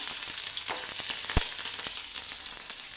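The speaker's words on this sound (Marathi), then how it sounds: "तडतड तडतड ओढते मिरची" Mustard seeds, cumin and green chilies crackle in hot oil in a home kitchen, a steady close hiss of frying with scattered sharp pops and one louder crack, no talking.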